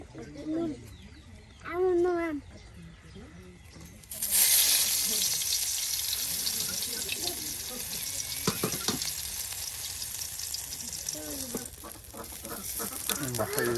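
Garlic and cumin fry in oil in a village kitchen, a loud continuous sizzle that starts abruptly and carries on steadily, with a rooster clucking and crowing nearby and a voice speaking over it.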